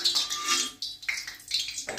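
Urad dal vadas dropped one at a time into hot oil, giving a bright, steady sizzle that swells in bursts as each batter piece goes in, close and fairly loud with no talk.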